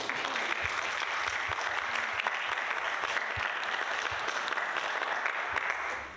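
Applause from a conference audience, a steady crowd of hands clapping for several seconds, with individual sharp claps popping out of the dense, moderately loud patter before it tapers at the end.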